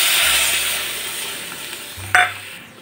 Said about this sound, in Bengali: এইবার দিয়ে দিচ্ছি এই বাটির 1 বাটি পরিমাণ জল।